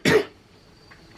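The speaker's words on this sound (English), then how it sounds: "the only way I can get my throat to stop itching is if I cough" A single sharp cough with a throat-itch quality, close and fairly loud, followed by near silence and a faint breath at the end.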